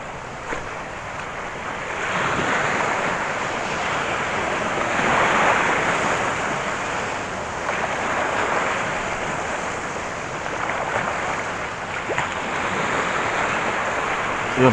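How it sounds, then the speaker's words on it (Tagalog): Ocean surf rolls and washes in broad, swelling surges under steady wind rumbling on the microphone, loud and close. "laki ng alon"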